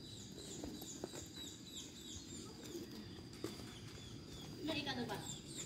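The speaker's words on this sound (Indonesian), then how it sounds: "Suara anak burung banyak banget." Many small birds chirp in high, repeated calls during a morning walk, with a louder burst of chirping near the end over a background of soft voices and outdoor ambience.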